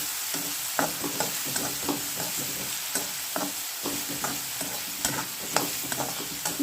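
Avalakki mixed with salt is stirred in a frying pan, with a soft continuous sizzle under irregular close scraping and tapping strokes of a spoon and no talking.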